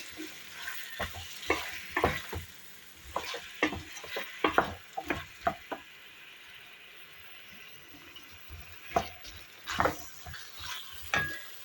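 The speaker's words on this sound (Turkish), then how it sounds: "Alttan üstte bir güzel karıştırıyoruz" Zucchini and rice in a pan are stirred from the bottom up, producing a series of scraping, sizzling strokes in an irregular rhythm over a soft frying hiss, close and clear with no talking.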